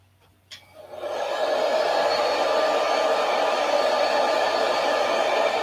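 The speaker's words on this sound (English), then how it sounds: "Need to get the heat gun on it." A heat gun switches on with a click and quickly rises to a loud, steady rush of blowing hot air. The roar holds constant and close for several seconds with no talk.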